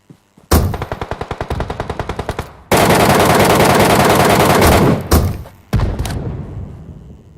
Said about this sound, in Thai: ตัวที่มันยิงบึ้มบึ้มบึ้ม